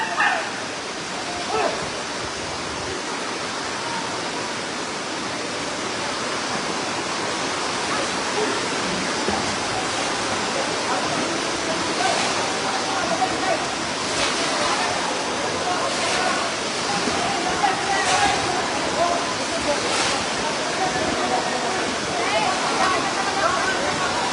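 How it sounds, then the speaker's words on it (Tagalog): Rushing floodwater pours through a barangay in Lemery, Batangas during a typhoon, a dense continuous roar like a torrent, loud and steady, with voices speaking over it. "Grabe ang baha, grabe."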